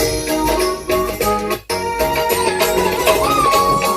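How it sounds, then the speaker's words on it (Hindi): A devotional bhajan sung in a recording studio, a sustained melodic voice over dense instrumental accompaniment with a steady rhythmic pulse, loud and continuous apart from one brief break. "आगे मैं आपको अभी सुनवाती हूँ कि इस टाइम पे कौन सा भजन गा रहे थे।"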